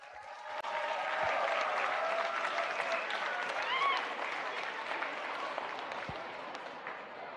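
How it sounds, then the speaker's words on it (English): A standing audience at the Miss Philippines Earth 2026 grand finals applauds Mayor Gary Casino, steady dense clapping and faint cheering that carry on for several seconds. "Can we all stand and give another round of applause to Mayor Gary"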